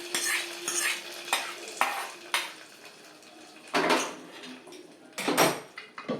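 Tempering spices crackle and sizzle faintly in oil while a utensil clinks and scrapes against a pan in several short bursts, while cooking a mixed-vegetable kootu.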